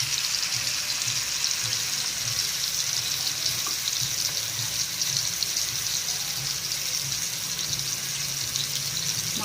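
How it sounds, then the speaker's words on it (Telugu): Three fish pieces frying in a pan over high flame, a steady broadband sizzle that stays even and close throughout with no voices. "ఇలా 3 పీసులు పెట్టుకుని ఫ్రై చేసుకున్నాం."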